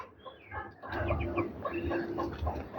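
Chickens clucking close by on a home farmyard, a rooster's gurgling calls mixed with several short clucks and murmurs, fairly quiet with no talking.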